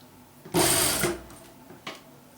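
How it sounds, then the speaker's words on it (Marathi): A sewing machine fitted with a presser foot attachment for zips and picot edging whirs through one quick half-second burst of stitching, followed by a faint brief mechanical click. "याप्रमाणे येथे खाचामध्ये ठेवून शिलाई घ्यायची आहे"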